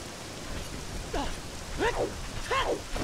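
Rain from a storm in the N64 game The Legend of Zelda: Ocarina of Time hisses steadily in the background, with a few short rising and falling tonal calls heard over it.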